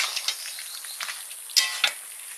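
Coriander chicken cooks in a pan in its own juices, giving a steady close sizzle with brief louder crackling spurts, no voices.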